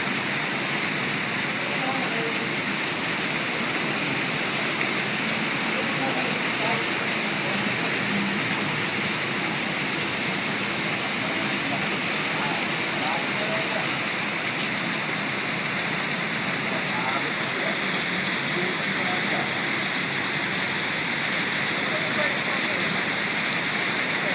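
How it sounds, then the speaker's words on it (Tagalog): Floodwater gushes out of a street drain during severe flooding, a dense, steady roar of rushing water that fills the whole stretch without letup, with faint voices buried in the wash. "bumubulwak yung tubig galing sa Imbornal."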